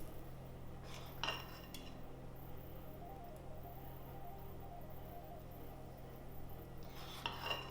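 Berry muffin batter is spooned into the three cups of a small electric muffin maker, with two quiet clinks of a spoon against metal at the start and end over faint kitchen hiss.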